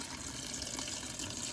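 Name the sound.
water running into pot to cover pinto beans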